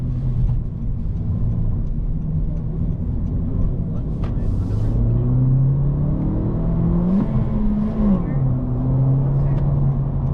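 Engine of a 2024 Honda Civic Si with a manual gearbox hums steadily while driving, then revs up and drops back in a rising and falling sweep through gear changes, under occasional talk.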